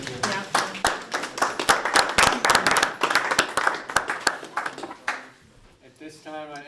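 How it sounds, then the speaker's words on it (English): Applause from meeting attendees at a village trustees session, a dense burst of clapping that swells and then thins out, with talk underneath and a voice coming in at the end. "Round of applause, thank you"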